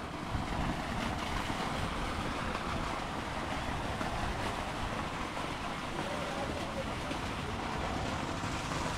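Water pours steadily into a farm swimming pool, a continuous broadband rushing hiss that stays even and fairly loud throughout, with no pauses and no clear voices over it.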